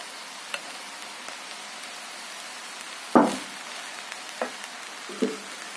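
Rice for egg fried rice added bit by bit to a hot pan, a low crackling sizzle throughout with a few sharper bursts as portions drop in.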